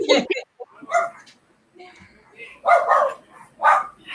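A puppy barks and yips in a few short bursts, close by and fairly loud, mixed in with people talking.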